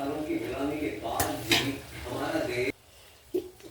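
Chopped tomato pieces go into a pan of cauliflower curry: a soft frying hiss with scraping and two sharp clatters of utensil on metal, followed by a quieter pause and one last knock.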